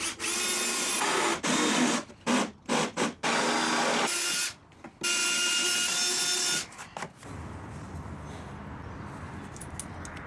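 A power drill bores recessed holes and bolt through-holes into a board from an old wagon, loud whining bursts starting and stopping several times, then quieter rasping.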